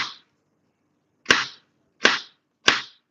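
A knife chops through raw chicken on a board: four sharp, close, isolated impacts, the first at the very start, then three spaced about two-thirds of a second apart, with silence between.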